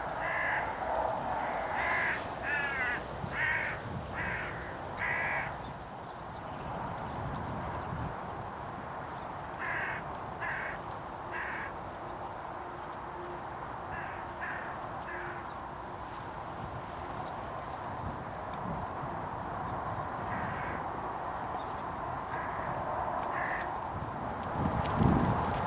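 A hooded crow perched in a tree gives repeated harsh caws in bursts of two to four, at moderate distance, with pauses between calls and steady outdoor background noise.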